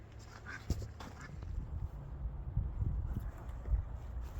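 Ducks quack in a few short, scattered bursts over a low rumbling background, fairly close and moderately loud.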